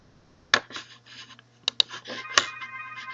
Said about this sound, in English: two numbers are ringing.